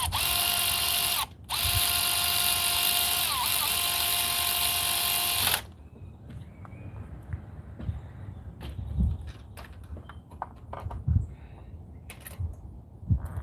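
Power tool tightening spark plugs on a 2013 Ford Edge 3.5L engine, two close whirring runs with a brief break, followed by quieter clicks and clanks of handling.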